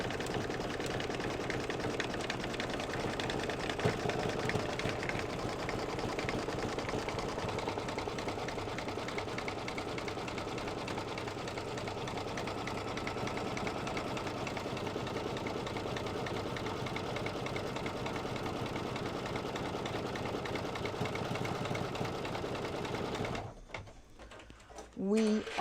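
An embroidery machine runs a slow walking stitch on fabric held in a hoop, giving a steady, close mechanical whirr and rapid needle chatter that continues without a break before stopping near the end.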